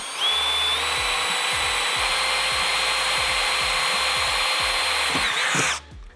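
A power drill bores a pilot hole during fitting of line marking equipment, a loud sustained high whine running about five and a half seconds before cutting off, with rhythmic low knocking beneath.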